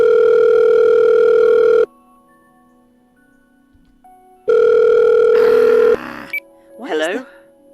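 Phone ringing in a video game: two long, loud electronic rings separated by a quiet gap, followed by brief clicks and a short burst of voiced game chatter at the end.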